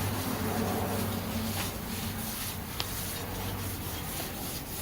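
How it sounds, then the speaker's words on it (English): Steady soft rubbing and wiping across a painted 1941 Dodge WC army truck part, a cloth dragged back and forth continuously to remove sanding dust, with a low hum in the background. "Okay, we'll wipe this down."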